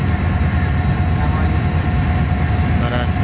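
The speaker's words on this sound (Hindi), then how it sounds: "Shalimar express Karachi cantt railway station से रवाना हो रही है।" The Shalimar Express, hauled by HGMU30 locomotive 8203, pulls out of Karachi Cantt railway station. A loud, continuous, close rumble of engine and rolling stock holds steady throughout.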